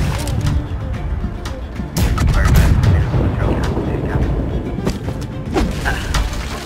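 Cannons fire aboard sailing ships in the Blackwake video game, with repeated booming blasts and thuds amid rumbling battle noise. Voices are heard over the gunfire.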